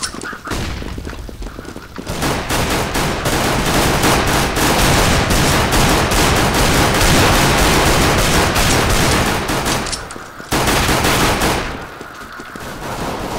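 Dense, sustained gunfire and booms from a CS:GO match fill the clip almost continuously, with a flashbang thrown amid the shooting and brief lulls near the end.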